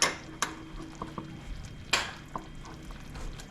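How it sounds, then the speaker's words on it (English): A spoon stirs a thick peanut brittle candy mixture with salt and butter in a pot, giving a few sharp metallic clinks and scrapes against the pot over a faint bubbling background. "And keep stirring"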